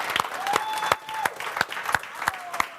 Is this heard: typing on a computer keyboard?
no